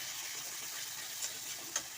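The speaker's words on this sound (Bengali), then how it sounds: "জিরে বাটাটা দিয়ে আমি আবারও একটু মশলাটাকে কষিয়ে নিচ্ছি।" Cumin paste and spice masala are stirred and fried in oil in a pan while cooking a vegetarian jackfruit curry, giving a steady close sizzling hiss with two brief scraping clinks of the spoon.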